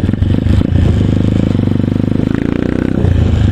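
A KRY 200 pit bike with a Honda 155 engine roars loudly and steadily up close, riding hard in fourth gear with a rough, throbbing exhaust and rattling clatter.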